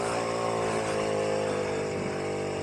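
Puch Maxi moped climbing uphill, its small engine buzzing steadily and close under load, with constant wind rush and no talking.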